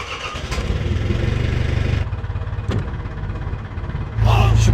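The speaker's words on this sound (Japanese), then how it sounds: "じゃあエンジンかけて" Small fishing boat's engine cranked and starting in a harbour before leaving port to set crab traps, a loud chugging mid-pitched rumble that cuts out briefly, then catches again and runs steadily, close by.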